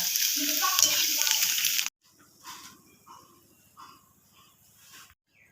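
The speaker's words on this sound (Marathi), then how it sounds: "आता आपण यात तळून बघूयात" Sabudana kurdai, sun-dried sago papads, hit hot oil with a loud bright sizzle for about two seconds, then quieter bubbling frying follows with soft crackles.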